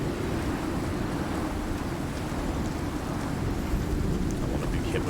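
Storm wind in a video game, a constant heavy low roar with gusty rumbling, loud and unbroken throughout; no distinct thunderclap stands out.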